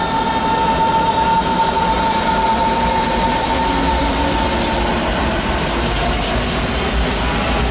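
Berlin S-Bahn commuter train rumbling steadily through Alexanderplatz station, a loud continuous roar with a faint high whine, no voices.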